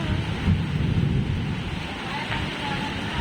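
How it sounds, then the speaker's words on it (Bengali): Heavy rain pours down during a storm, a dense, continuous roar of rainfall with gusty wind noise, steady throughout with no clear breaks. "প্রচুর বৃষ্টি হচ্ছে"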